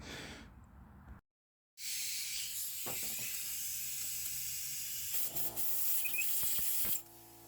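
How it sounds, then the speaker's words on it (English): Aerosol can of Fluid Film penetrating oil sprayed during starter work on a 2002 Toyota Solara SLE, a steady close hiss in two bursts: a short one, a pause, then a long spray of several seconds. "Put a little bit of penetrating oil. Well, I got some fluid film."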